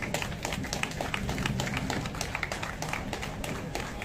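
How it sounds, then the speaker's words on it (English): Audience at a commissioning ceremony applauding as a speaker is welcomed on stage, steady continuous clapping from many hands, fairly close and even throughout. "so please encourage him with a round of applause."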